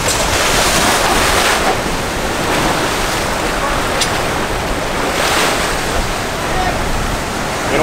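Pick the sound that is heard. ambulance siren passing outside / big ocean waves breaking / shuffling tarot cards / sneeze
big ocean waves breaking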